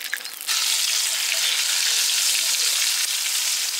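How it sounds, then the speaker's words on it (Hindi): Tomatoes dropped into hot oil for deep frying in a chicken gravy recipe, a loud dense sizzle bursting up after a brief quieter start and holding steady to the end. "टमाटर भी फ्राई कर देते हैं।"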